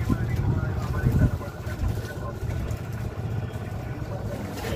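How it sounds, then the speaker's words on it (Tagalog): A small boat's single-piston engine runs with a steady, low chugging drone at sea, mixed with wind noise and a voice speaking over it. "Ang makina single piston lang na di krodo."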